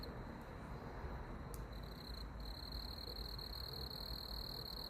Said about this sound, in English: there's a couple of crickets right there next to the camera